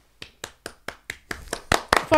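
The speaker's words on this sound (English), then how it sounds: "Why were you clapping for yourself?" Hand claps in a steady rhythm, about eight sharp slaps that start sparse and speed up and grow louder toward the end, close by with a brief voice at the finish.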